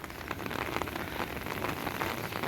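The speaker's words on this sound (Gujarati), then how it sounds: "અને વરસાદ પણ ઝીણો ઝીણો ચાલુ થઈ ગયો છે" Steady light drizzle patters on surfaces in a Kutch village, a soft continuous hiss of fine drops with no voices.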